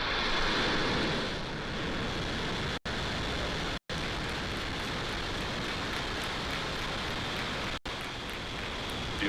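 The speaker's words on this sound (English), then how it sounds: "9, 8, 7, 6, 5, 4, 3, 2, 1, 0. Ignition" A SpaceX rocket igniting and lifting off on the Transporter-3 mission gives a loud, continuous broadband roar that stays steady and dense throughout, with a few very short dropouts and no voices.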